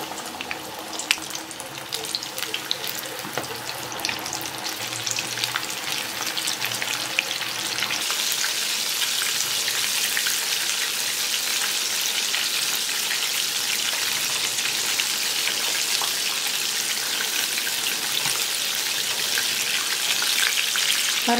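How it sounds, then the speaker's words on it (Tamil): Chicken legs deep frying in medium-hot oil for a crispy KFC-style home recipe, a steady, dense sizzle and bubbling that carries on without a break throughout, fairly loud and close with no talking. "இப்போது இந்த சிக்கனை நம்ம பொரிச்சிடலாம்."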